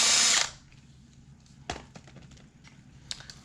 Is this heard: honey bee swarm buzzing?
no